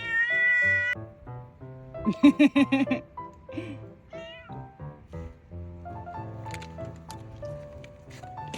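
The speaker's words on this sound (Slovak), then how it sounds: "Čo je mačička?" A cat meows repeatedly near a long Adriatic beach in Albania, a cluster of quick high cries in the middle among other mews, over a background of low harmonic tones.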